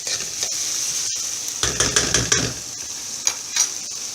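Chopped onions sauté in a big pan for pav bhaji under a steady high sizzle, with a burst of scraping and stirring strokes midway and a few sharp clinks of a spoon against the pan.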